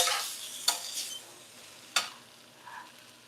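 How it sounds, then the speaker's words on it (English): Lobster with scallion and ginger stirred in a hot pan, a soft sizzle broken by two sharp utensil scrapes and a brief stirring swish near the end, fairly faint overall. "Give it a stir a little bit."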